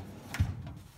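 A drawer at a barber station in a garage slides open with a short rubbing scrape and a soft low thump, close and brief.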